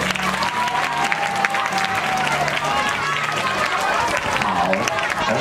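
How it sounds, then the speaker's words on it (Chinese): Children at a school trip beach-camp evening party give a long burst of dense crowd applause, loud and sustained throughout, with cheering voices mixed into the clapping. "也给自己一个热情的掌声吧"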